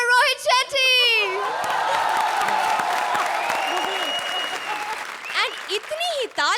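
A studio audience at a Hindi TV comedy show applauds in a sustained, loud burst of clapping and cheering, with a voice speaking over the start and end.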